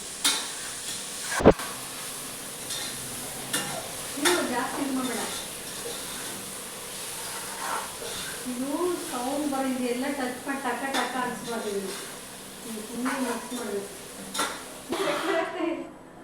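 Onions and tomatoes fry in a pan for mushroom pulao, with a steady sizzle and intermittent scraping stir strokes, partly under a voice talking.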